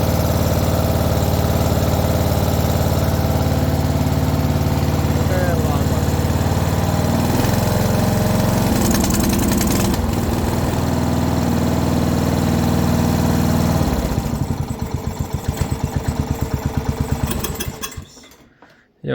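A Caravan 12-100E riding lawn mower engine runs loudly and close for a long stretch, its roar shifting and surging unevenly as it struggles to idle, then dropping and sputtering before cutting out near the end.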